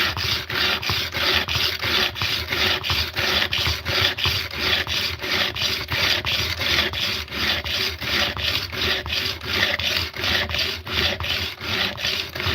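A tool blade is rubbed back and forth on a wet sharpening stone, a steady and close rasping scrape that keeps up an even stroke rhythm the whole time, with no voices.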